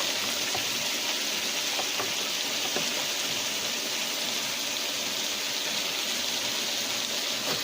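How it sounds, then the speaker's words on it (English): Vegetables sauteing in hot vegetable oil, a steady close sizzle and crackle with a hissing wash throughout and no pauses. "I'm sauteing. I put a little bit of vegetable oil. Let it get a little hot. Put my vegetables in there."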